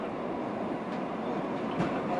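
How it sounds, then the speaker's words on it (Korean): Inside a Mugunghwa passenger train bound for Seoul Station, a steady muffled rumble of running wheels and carriage noise with a couple of faint clunks, heard without talk. "서울역까지 운행하는 무궁화열차"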